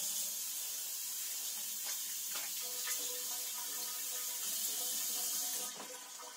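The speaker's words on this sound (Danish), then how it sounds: "Kan du selv gå ud og vaske hænder?" Water runs steadily from a tap as hands are washed at a sink, a soft, even hiss with faint splashes and small clinks, fairly quiet and without talk.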